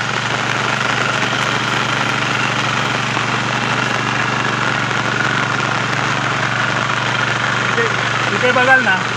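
A farm machine engine runs steadily in a flooded rice paddy in Konkan, a loud continuous drone that holds throughout with a brief rattle near the end.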